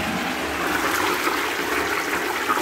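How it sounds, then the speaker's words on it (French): A newly fitted wall-hung SIAMP toilet flushes with a steady, rushing gush of water that holds its level throughout, close by and on its own. "Chasse d'eau, tout va bien."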